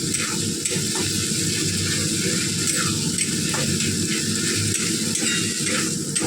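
Spices for khichuri fry in a pan with a steady, dense sizzle, while a utensil stirs and scrapes against the pan at close range.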